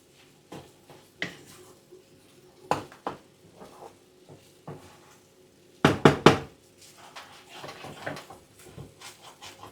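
Idiyappam mix being stirred in a pan gives irregular knocks and scrapes of a utensil against the pan, sparse at first, then a brief louder cluster of rapid clatters before settling back to occasional taps.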